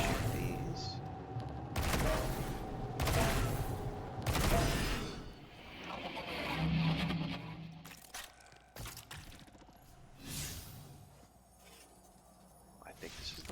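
Bursts of gunfire in the video game Destiny 2 as symbols are shot, several loud volleys spaced apart, with talking in between.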